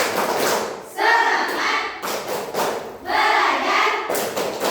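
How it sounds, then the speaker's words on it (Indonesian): A group of schoolchildren performs a rhythmic spirit clap in class, with bursts of unison clapping and chanting voices in two loud waves and short pauses between them. "Tepuk semangat."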